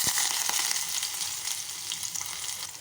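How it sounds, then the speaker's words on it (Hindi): Onions drop into hot oil for a tempering, a loud, close, steady sizzle and crackle of frying that carries on without a break. "मेरा ऑयल गर्म हो चुका है। मैं इसके अंदर अपनी प्याज डालूँगी।"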